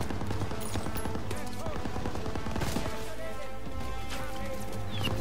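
Machine-gun fire in a Call of Duty: WWII battle on Hill 493, a steady loud clatter of rapid shots running the whole length, with French speech mixed in.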